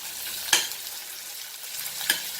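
Onions frying in a pan for a Goan beef roast, a steady soft sizzle with two sharp louder bursts as they are stirred or tossed, no talking.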